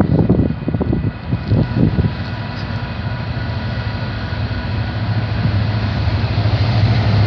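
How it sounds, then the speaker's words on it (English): A Union Pacific freight train rumbles past a level crossing nearby, a steady low roar with some clanking early on, continuing throughout. "This is a good size freight train."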